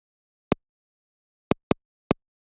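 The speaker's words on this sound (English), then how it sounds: "It's just a little kick, and it's very short." Four short, dry kick drum hits from an audio sample land in an uneven pattern, each a quick thump with clean silence between them.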